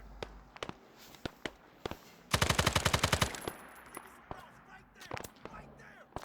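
An RPD machine gun in the Vietnam War shooter SOG fires one loud burst of about a dozen rapid, evenly spaced rounds, with scattered single shots and thuds around it.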